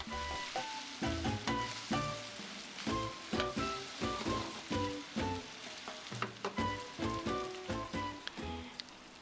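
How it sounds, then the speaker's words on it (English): Onions sautéing in a pan for pasta criolla, a continuous crackling sizzle broken up by rapid, irregular clicks and taps, close and moderately quiet with no talk. "First the onions, and let it saute for just a little bit, a minute or so."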